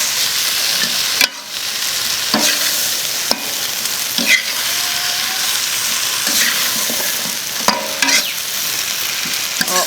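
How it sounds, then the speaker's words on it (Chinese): Pork ribs stir-fried with chili and lotus root in a dry pot, a steady loud sizzle broken by several sharp scraping strokes of a spatula against the pan, with no talking. "我们再炒一下就可以吃了的。"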